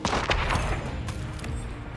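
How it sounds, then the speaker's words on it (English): Explosion in the Hitman video game, a sharp blast with a couple of crackling bursts over a rumbling, sustained low roar. "And there's a collateral explosion."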